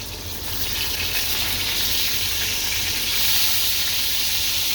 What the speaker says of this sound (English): when you do that, you see it just pops and you get that big sizzle